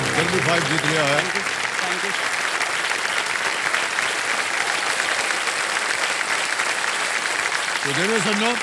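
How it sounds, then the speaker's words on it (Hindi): A studio audience on a televised quiz show breaks into loud, sustained applause for several seconds, with a host's voice at the start and again at the end. "जोरदार तालियां बज जाए, इन्होंने जल्दी 5 जीत लिया है।"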